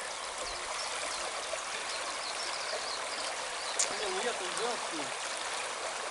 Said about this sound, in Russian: Вот речка сверху. Вид с моста.